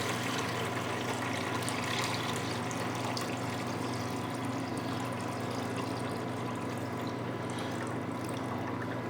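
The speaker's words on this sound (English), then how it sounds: "How much water are we adding?" Water pours steadily into pizza dough during mixing, a continuous trickle and splash running unbroken at moderate level with no talking over it.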